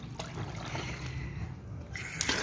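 Wheat grains being washed in water, a continuous soft sloshing and trickling with a brief splash near the end.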